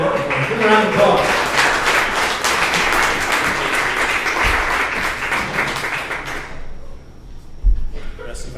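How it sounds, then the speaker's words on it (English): A crowd in a lounge applauds Booster Club guests with dense, loud, continuous clapping that stops sharply after about six seconds. A few scattered sounds and bumps follow in the quieter room. "Give them a round of applause."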